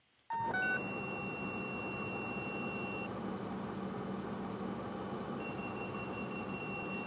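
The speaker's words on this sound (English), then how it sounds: "You'll hear an alarm going off. That's the low rotor speed warning." A helicopter's low rotor speed warning alarm sounds in the cockpit as the battery is switched on: a short series of rising beeps, then a sustained steady tone that drops out briefly and returns over constant electrical hum.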